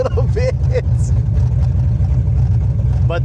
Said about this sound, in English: It's so loud with no exhaust right now.